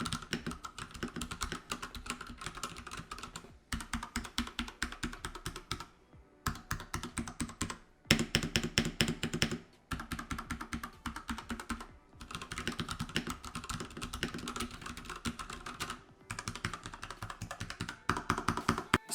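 Someone types steadily on an all-metal iQunix F96 mechanical keyboard with Cherry MX Brown switches, producing close, loud, rapid clacking in bursts separated by short pauses.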